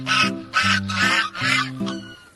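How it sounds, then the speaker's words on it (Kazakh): A goose honks five times in a row, each a loud, nasal call close at hand, evenly spaced with brief gaps. "Қаз қандай дыбыс шығарады?"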